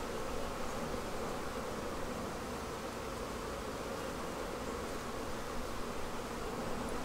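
Honey bees swarm around their hive in a dense, steady drone that stays loud and close throughout, with no talking.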